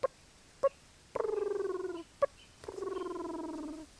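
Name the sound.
voice imitating turkey putt and purr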